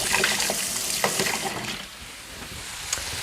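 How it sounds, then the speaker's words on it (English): Water runs steadily from a kitchen faucet as something is rinsed off while cooking honey lime chicken, a continuous close splashing stream that eases slightly midway. "Wash this off real quick."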